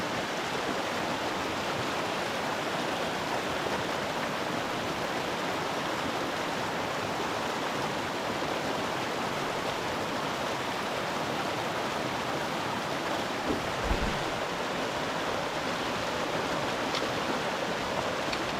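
People wade through a deep mountain stream in Colorado elk country, heard as a steady, loud rush of flowing water that fills the whole clip, with a brief splashy thump near the end and no voices.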